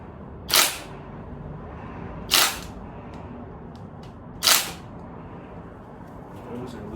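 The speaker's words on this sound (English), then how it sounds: "I'll use my impact gun to take these 3 bolts out" An impact gun loosens crank bolts on a Corvette LS2 engine, three short, loud rattling bursts about two seconds apart, with faint shop clicks afterward.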